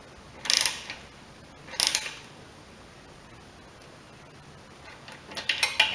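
Ratcheting wrench clicks in three short bursts, near and fairly quiet, while a carburetor is replaced on a Husqvarna 725 EX mower with a 190 cc Briggs & Stratton engine; the gaps between bursts are near silent.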